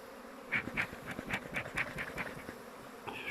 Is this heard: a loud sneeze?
no